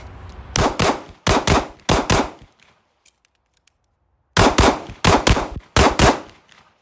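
Gunshots fired at targets in a shooting drill: two rapid bursts of three loud, sharp reports, separated by a quiet pause of about two seconds.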